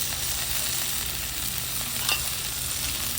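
Garlic, green chili and fenugreek sizzle in a hot pan, a loud, steady hiss and crackle filling the short stretch with no talking and a brief scrape of stirring near the end.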